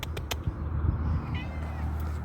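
Outdoors near a garden and front porch, a territorial cat lets out a brief, faint meow after a few sharp taps and clicks, over a low background hum.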